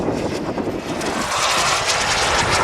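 Tomahawk Ventura turbine jet model aircraft roaring past on its side in a knife-edge pass at an outdoor model air show, a loud steady whine and rush that swells slightly toward the end.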